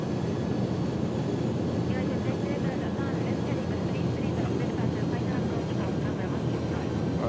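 An iniBuilds A300-600R airliner on landing approach in X-Plane 11 produces a constant loud engine and airflow roar that holds steady throughout.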